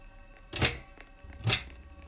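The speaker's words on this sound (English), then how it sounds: "he slammed the door on me" Two heavy door slams in the Roblox game Flee the Facility, airport map, each a loud, sharp thunk about a second apart, with no talking over them.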